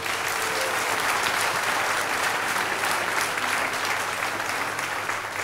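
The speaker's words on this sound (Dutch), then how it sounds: "Een groot applaus." A church congregation applauds to honour members with recent birthdays, a steady broad wash of many hands clapping that holds evenly throughout without a break.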